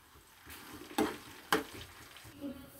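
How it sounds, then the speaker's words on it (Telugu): Sesame seeds and dried red chillies frying on a low flame for a mango pickle tempering: a soft, steady sizzle broken by two sharp stirring clacks and quiet scraping. "ఇది నువ్వుల్లోని కాబట్టి పొంగుతుంది, లో ఫ్లేమ్లో పెట్టుకొని వేయించుకోవాలి."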